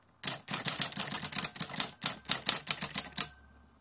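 A 1960s Royal Apollo 10 electric typewriter types a quick, loud run of about fifteen sharp key strikes in uneven bursts, close and alone, ending with a faint motor hum.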